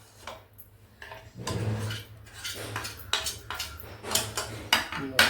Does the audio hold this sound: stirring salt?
yes